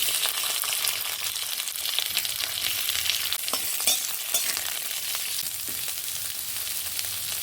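Sliced onions hitting hot oil tempered with a dried red chilli and nigella seeds, a dense, bright sizzle with scattered crackles and pops, steady and close throughout.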